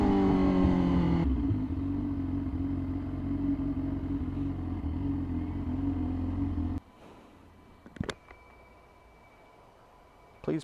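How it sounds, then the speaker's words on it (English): Yamaha R6 sport motorcycle engine rumbling steadily up close while weaving through traffic, then cutting out abruptly partway through, leaving a quiet stretch with a few sharp clicks and bumps. "Good thing I'm on a bike, so I can just weave through them."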